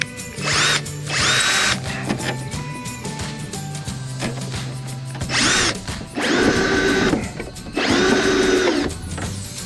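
A drill drives a screw into gutter drain pipe without a pilot hole, in several loud whirring bursts separated by short pauses, with the later bursts longer and straining.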